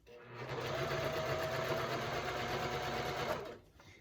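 A domestic sewing machine set into a table stitches a harlequin vinyl pouch, its motor whirring steadily and close for about three seconds before stopping.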